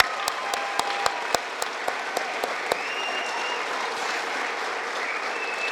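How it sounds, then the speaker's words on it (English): An audience at a Hall of Fame induction ceremony gives a sustained round of applause: dense, steady clapping with a few sharper close claps at the start and a faint whistle riding above. "If we can get just one final round of applause for all of our inductees tonight."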